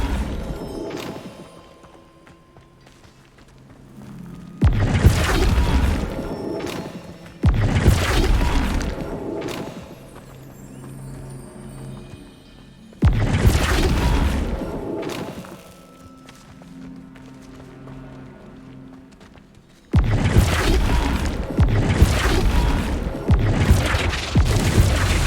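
Flipendo spell impacts in the Hogwarts Legacy video game, several loud booming blasts with crashing, thudding hits, each burst lasting a few seconds and separated by quieter stretches of ambient game sound.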